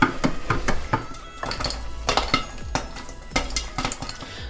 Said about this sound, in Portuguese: agora a gente vai fechar a panela e dando leves mexidinhas para estourar tudo